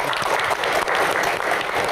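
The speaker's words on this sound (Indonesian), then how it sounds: "tepuk tangan untuk Coach Indra" Studio audience applause for football coach Indra Sjafri during a Q&A show, a dense, steady burst of clapping close by for a couple of seconds.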